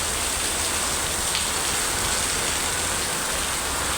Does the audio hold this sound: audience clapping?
no